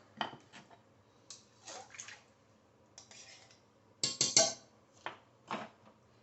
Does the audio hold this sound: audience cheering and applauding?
no